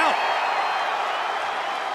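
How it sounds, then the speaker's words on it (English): A loud wrestling arena crowd cheers and roars in a dense, continuous wall of noise during a WWE SmackDown entrance, steady throughout with no break. "This crowd is going wild."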